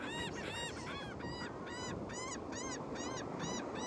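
Outdoor gulls call in a steady series of harsh, nasal, repeated cries, about a dozen evenly spaced calls over a constant background rush of wind or surf.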